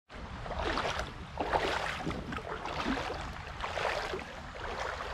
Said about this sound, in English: I hear waterfalls.